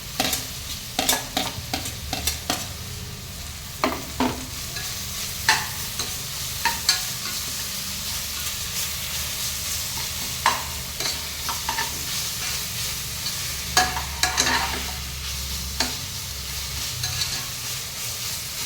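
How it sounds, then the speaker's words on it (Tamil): Ginger garlic paste frying in a pan for homemade biryani while being stirred: a steady close sizzle broken by repeated sharp scrapes and clicks of the spoon, irregular in rhythm, with no talking. "இஞ்சி பூண்டு பேஸ்ட் போட்டு"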